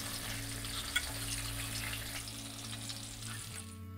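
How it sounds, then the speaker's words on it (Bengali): Mango pieces cooking in a pan with turmeric sizzle in a steady, fairly quiet fry under a low background hum, with one brief knock near the start. "আমগুলো আমার অনেকটাই ভাজা ভাজা হয়ে গেছে"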